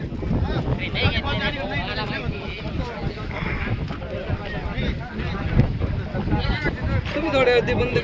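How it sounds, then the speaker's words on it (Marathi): Strong wind buffets the microphone in rough gusts while people talk nearby at an outdoor vegetable market as rain threatens. "वारा खूप सुटलंय"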